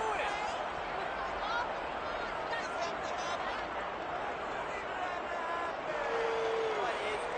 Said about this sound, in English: this crowd does not like that call